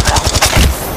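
Rapid close automatic gunfire in the mobile shooter Apex Legends Mobile, a quick loud burst of repeated shots with no talk.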